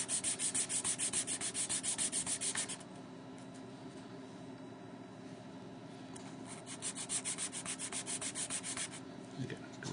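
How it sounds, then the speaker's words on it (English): Steady rhythmic sanding strokes rub back and forth on a small 1/48 scale Tornado FLIR pod part, close and clear, pausing briefly midway before the gentle scraping resumes. "is just to sand it down smooth"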